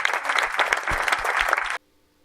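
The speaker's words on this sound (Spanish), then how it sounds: "Magdalena del Amo, un fuerte aplauso." An audience at a ufology congress applauds warmly, a dense burst of clapping that fills the room for under two seconds before cutting off abruptly to near silence.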